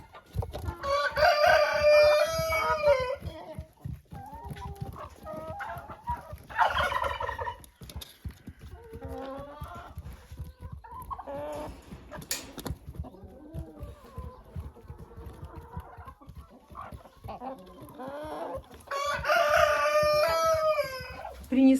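Turkeys gobble in loud, rapid bursts among chickens in a farmyard, with clucking and bird calls running underneath throughout and a prominent gobbling outburst at the start and again near the end.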